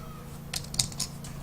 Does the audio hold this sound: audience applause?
no